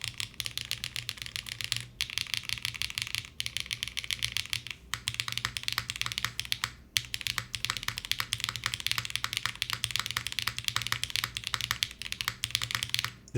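An aalto mechanical keyboard typed on quickly, giving a deeper-toned, steady run of close, clacky keystrokes broken by a few short pauses and occasional louder spacebar-like thumps, with no voices.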